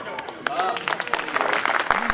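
A poetry recital audience claps, dense scattered applause rising in the middle and continuing to the end, mixed with crowd noise and voices.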